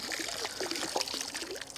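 Liquid pool algaecide trickles and splashes as it is poured into a pool, a continuous close dribbling stream with small bubbling splashes, moderately loud.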